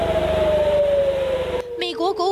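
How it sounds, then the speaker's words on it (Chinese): An air raid siren wails over Tel Aviv in a loud, sustained, slowly falling tone, then cuts off abruptly to a voice speaking. "特拉维夫却是再度响起空袭警报"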